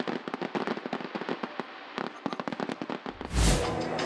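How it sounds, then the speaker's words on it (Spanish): Fireworks burst in a rapid, crackling barrage of sharp pops at a Nürburgring truck racing event, ending in a louder, deeper boom with a rushing tail. "La jornada acababa con 20 minutos de fuegos artificiales"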